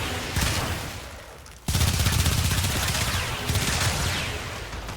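Dual Toxocyst pistols in the Warframe video game firing dense, rapid rattling volleys that are close and loud, with a brief lull before a harder second burst; a voice speaks faintly beneath the shots.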